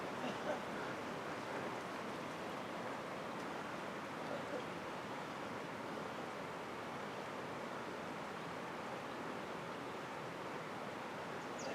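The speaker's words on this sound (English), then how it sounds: "You hear water running way on the far side of the lake." Faint, steady rush of running water from the far side of a calm mountain lake, a continuous distant wash with no talking.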